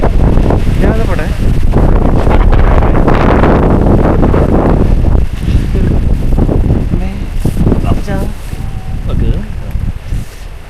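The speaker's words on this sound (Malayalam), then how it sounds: "കാറ്റിൻ്റെ ശബ്ദം." Wind gusting on the Agasthyarkoodam mountain trek, loud buffeting across the microphone, strong at first and then easing a little, with faint voices in the background.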